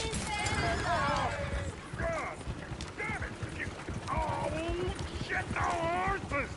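Horses in the Red Dead Redemption 2 video game let out several high, wavering neighs and whinnies over hoof clip-clops, mixed with voices talking.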